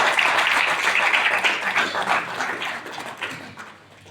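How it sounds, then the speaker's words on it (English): Audience applause at the official launch event of IRONMAN 70.3 Colombo, a sustained crowd of clapping that stays loud and steady before tapering off toward the end. "Come on. You can clap louder."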